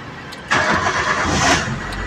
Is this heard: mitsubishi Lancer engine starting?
yes